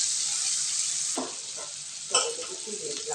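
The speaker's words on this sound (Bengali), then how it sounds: "পেঁয়াজ কুচি দিয়ে একটু ভাজা ভাজা করি," Chopped onions fry in a pan after a bay leaf goes into the hot oil: a close, continuous sizzle rises sharply as they land, with stirring scrapes and clatter on top.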